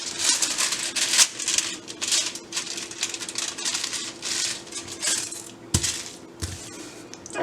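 Aluminum foil being smoothed flat and folded in half for homemade toaster biscuits, a close, loud run of crinkling and crackling bursts with sharp rustles and brief pauses.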